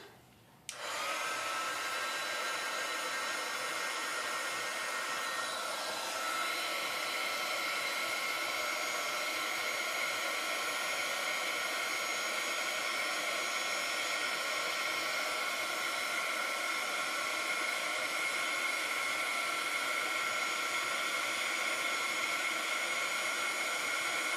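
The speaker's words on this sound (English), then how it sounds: "Then I'm going to turn on my heat gun." A heat gun blows on embossing powder during a craft session, switching on with a click and then a steady, even whooshing hum that stays constant and fairly soft throughout.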